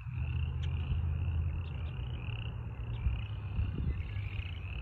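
A dense chorus of frogs croaks continuously along the St. Vrain Greenway, a steady trilling drone with occasional louder calls over a low rumbling background.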